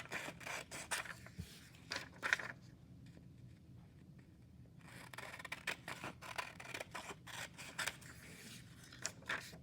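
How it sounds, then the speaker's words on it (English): Scissors snip through paper to cut out boxes, a steady series of quiet close clicks and crisp cuts with a short pause midway. "take your scissors, nice and neat, and you're going to cut out"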